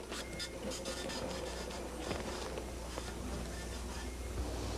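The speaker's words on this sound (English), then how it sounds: "the computer feeds the warehouse printer a complete shipping order." A warehouse printer printing a shipping order, a continuous mechanical chatter of rapid ticking and scratching over a steady low hum, close and even in level throughout.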